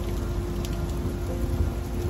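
Steady rain pours outdoors at a holiday spot in Hartebeespoort, a continuous dense hiss of falling water with no voices.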